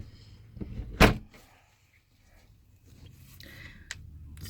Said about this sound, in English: All right, I'm gonna shut the door.